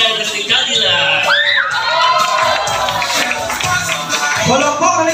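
A birthday crowd at a 70th birthday celebration shouting and cheering loudly and continuously, with children's high voices and whoops blending into a dense, close roar.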